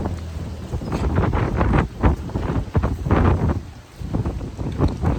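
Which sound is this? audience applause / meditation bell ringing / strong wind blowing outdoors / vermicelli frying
strong wind blowing outdoors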